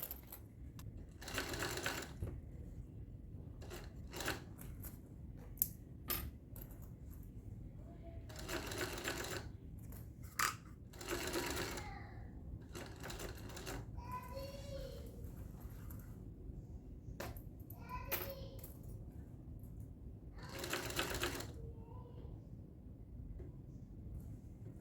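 An industrial sewing machine stitches a bag together in several loud bursts of rapid mechanical whirring, with short pauses and quiet handling sounds between runs.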